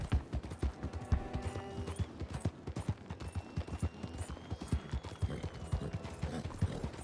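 A white mare's hooves clip-clop steadily in Red Dead Redemption 2, a brisk, even rhythm of close, crisp hoofbeats continuing throughout with faint background ambience.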